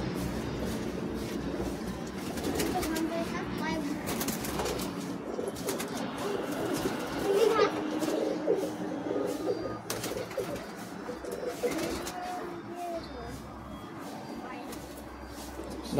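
Madrasi high-flying pigeons cooing in a loft in Bagnan, Kolkata: a dense, continuous chorus of soft low coos with occasional wing flutters, while someone talks throughout nearby.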